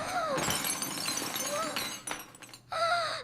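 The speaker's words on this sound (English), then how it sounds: "The glass broke." Glass breaks in a short household scene, bright crashing and tinkling bursts scattered through the clip, with voices speaking around the shattering.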